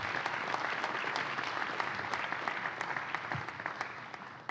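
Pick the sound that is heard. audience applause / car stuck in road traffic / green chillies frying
audience applause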